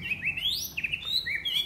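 A white-rumped shama (murai batu) sings a run of clear, high whistled chirps and trills, close and fairly loud, with no voices over it.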